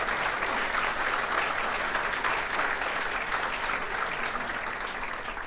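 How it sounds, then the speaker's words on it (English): A crowd applauds for Donna Duperon at a regional chamber of commerce event, dense steady clapping filling the room at an even level throughout with no voices rising above it. "So give Donna Duperon a big round of applause."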